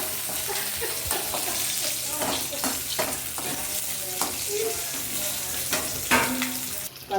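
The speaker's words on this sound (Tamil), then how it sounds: "பச்சை மிளகாய், இஞ்சி பச்சை மிளகாய் போட்டு நல்லா வதக்கிக்கிறேன்" Green chilies and ginger sauté in a pan with a continuous loud sizzle, broken by repeated sharp stirring scrapes and clanks, close up and without speech.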